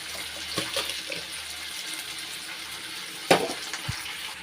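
Water boiling in a cooking pot, a steady bubbling and rushing throughout, with a couple of sharper splashes and clinks, close and moderately quiet.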